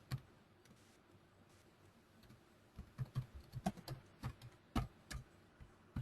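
Notes are typed on a computer keyboard: after a quiet start, a burst of crisp, irregular keystrokes clatters close by, with a few isolated taps, and no one speaks.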